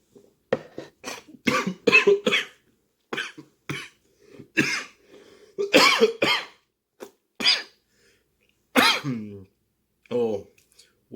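A series of harsh, hacking coughs close to the mic, coming in irregular bursts with short gaps, along with throat-clearing sounds.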